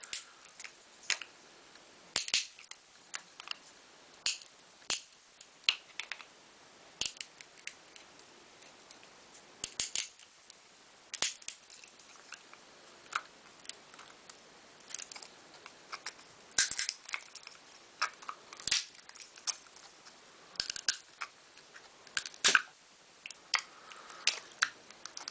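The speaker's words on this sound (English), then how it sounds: "I'll just have to break the glue" Glue being snapped apart to take apart a model tractor wheel: sparse, sharp little cracks and ticks, close and fairly faint, scattered irregularly over a quiet background with no speech.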